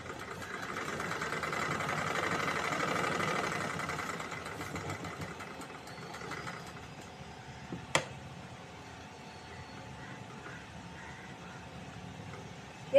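A sewing machine whirs as it stitches elastic onto a churidar bottom, a louder continuous run for the first few seconds that drops to a faint hum, with a sharp click near the end.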